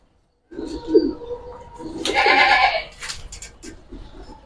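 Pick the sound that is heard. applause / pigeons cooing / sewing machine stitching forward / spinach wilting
pigeons cooing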